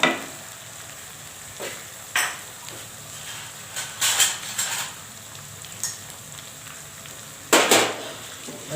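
Coarsely crushed garlic, ginger and white cumin fry in a pot, faint low sizzling broken by several sharp clinks of a spoon stirring against the metal.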